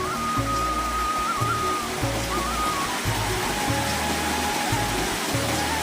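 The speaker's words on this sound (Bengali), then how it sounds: "পাথর ঘেঁষে পানি বয়ে যাওয়ার শব্দ দারুণ এক অনুভূতির জন্ম দেয়" River water runs over stones in a steady broadband rush, continuous and fairly loud, while a low rhythmic thumping pulses underneath.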